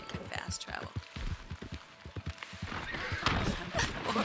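A horse in the Red Dead Redemption 2 video game whinnies loudly and repeatedly, mixed with clip-clop hoofbeats and rustling movement at close range.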